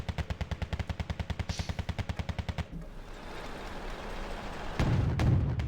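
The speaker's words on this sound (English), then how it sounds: "recoilless rifle things" Rapid, evenly paced burst of heavy gunfire from recoilless rifles in the wargame Wargame: Red Dragon, roughly two dozen loud thumping reports, then a low rumbling battlefield wash with a distant boom.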